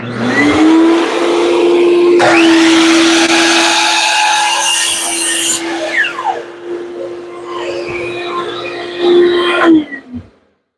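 A shop vacuum runs loud and steady with a rising tonal whine, and a miter saw cuts through a wooden push stick partway through. The motors wind down and stop near the end.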